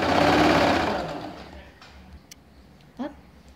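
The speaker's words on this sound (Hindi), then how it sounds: "एक मशीन फिर से एक सिलाई लगा दीजिए इसमें" A sewing machine stitching ladies' pants runs in a steady burst that fades over about a second and a half, followed by quiet handling and a soft clack near the end.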